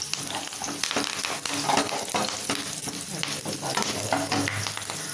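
Chopped onions and curry leaves frying in hot oil in a pan, a steady loud sizzle with frequent scraping stir strokes throughout, no voices.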